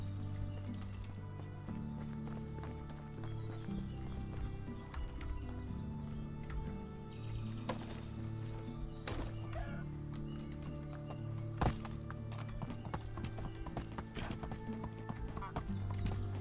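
Steady horse hooves clip-clopping at a walking pace in the video game Medieval Dynasty, with background music and occasional bird calls, continuing throughout.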